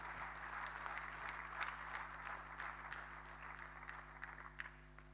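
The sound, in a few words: church congregation applause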